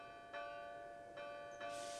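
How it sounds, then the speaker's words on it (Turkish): A bell hanging in a tree rings three times in the wind at uneven intervals, each strike leaving a bright sustained tone, fairly faint with a soft breeze-like hiss. "Rüzgar yavaşça esiyor ve çan keyifle çınlıyordu."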